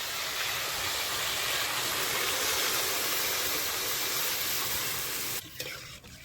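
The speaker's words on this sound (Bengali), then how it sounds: "এখন আমি পরিমাণ মতো জল দিয়ে দেবো।" Water poured into a hot pan of sautéed vegetables gives a loud, steady hiss and roar that fills the scene for several seconds, then drops away abruptly near the end.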